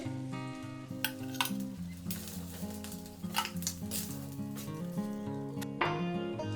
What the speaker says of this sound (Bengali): ভালো করে ভেজে নিতে হবে উল্টে পাল্টে